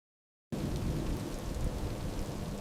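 Heavy rain pours in a thunderstorm with low rumbling thunder, a dense continuous wash that starts abruptly after half a second of silence, AI-generated by Kling 3.0, with no voices.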